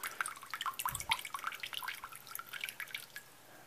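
Water drains out of a pet frog tank filter, a busy close trickle of drips and splashes that patters on for several seconds before thinning out.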